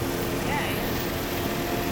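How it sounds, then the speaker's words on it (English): A 52 HP tractor pulling a 10-foot flex wing mower cuts tall grass and weeds, making a steady, dense engine and blade roar that holds evenly for the whole stretch. "He's mowing at a pretty good clip, though."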